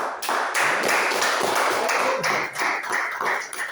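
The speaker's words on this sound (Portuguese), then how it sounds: "Aplausos." A church congregation at a teaching service claps, a loud, close, rhythmic run of claps and taps lasting a few seconds with no talk over it.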